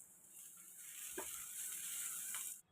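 A spice and onion mixture sizzles in a pan with a steady, bright frying hiss, broken by a couple of brief scraping stirs. The hiss cuts off abruptly at the end.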